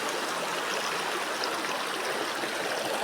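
A river flows below a steep cliff slope, a dense, steady rushing of water that fills the whole stretch with no voices.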